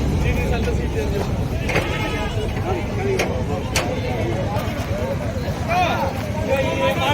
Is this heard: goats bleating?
yes